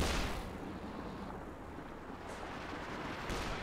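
Incendiary mortar barrage from Company of Heroes 2, heard as a continuous dense rumble of distant artillery fire and explosions, with a few sharper bursts rising out of the roar.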